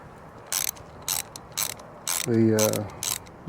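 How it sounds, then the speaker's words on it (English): The plastic back cover of a Honda Rebel 1100T speedometer is pried off in a series of sharp close clicks and snaps, followed by a short creaking rattle and further clicks, with no voices. "now we're gonna pop this back cover off of the speedometer"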